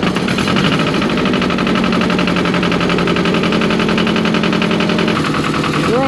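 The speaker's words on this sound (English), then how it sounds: "But we're tilling our milpa garden area here." A garden tiller engine chugs steadily while churning compacted dirt in a milpa garden plot, a loud, continuous, rough mechanical rumble with rattling and bumping throughout.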